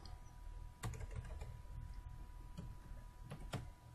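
Keystrokes on a computer keyboard at a Windows 8 PC, a few isolated quiet taps followed by a short burst near the end, fairly close over faint room hum.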